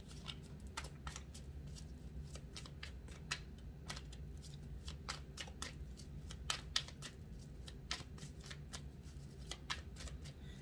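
A deck of tarot cards being shuffled by hand, close and quiet, with a long run of rapid crisp riffling snaps and slides repeating at an uneven rhythm over a soft room hum, with no talking.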